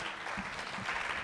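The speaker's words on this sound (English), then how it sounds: "Can we give them a round of applause?" Audience applause at a women's economic forum presentation in Kenya, a brief, fairly faint wash of clapping from a crowd in a hall.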